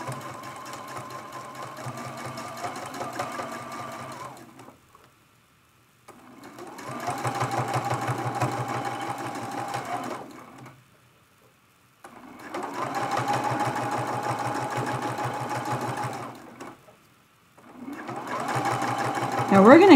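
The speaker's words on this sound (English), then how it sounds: "I'm going to just jump right over here and sew down the little opening of the arm of our cup" Domestic sewing machine stitching down the opening on a quilted teapot mug rug, running in three bursts of rapid needle clatter separated by short pauses, close and fairly quiet.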